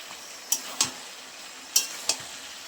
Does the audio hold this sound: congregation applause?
no